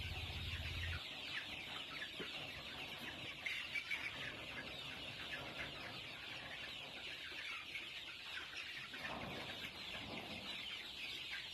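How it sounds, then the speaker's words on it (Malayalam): Gramasree roosters cluck and murmur at a low level amid outdoor ambience, a soft scattered chorus of fowl with no talking. "ഇതാണ് എൻ്റെ ഗ്രാമശ്രീ പൂവൻ കോഴികൾ"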